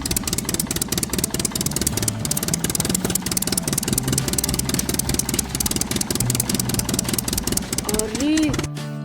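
A tractor engine runs steadily and loudly throughout, with a constant low rumble beneath music and voices, then cuts off near the end.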